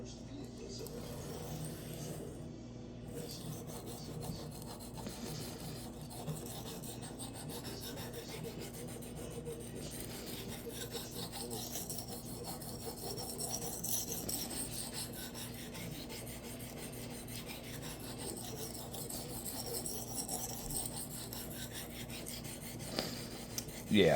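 Knife blade drawn repeatedly across a cheap Chinese whetstone, a steady close rasping scrape that keeps up its rhythm throughout, with faint talk at times underneath.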